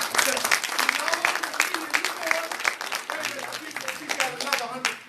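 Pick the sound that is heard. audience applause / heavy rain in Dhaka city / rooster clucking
audience applause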